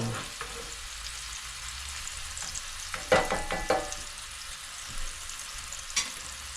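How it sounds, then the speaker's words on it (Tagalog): Steady sizzling of steak frying in butter in a pan, with occasional louder spatters and scraping clicks, close up and with no talk. "So ganyan lang mga kabuli. Prito lang natin."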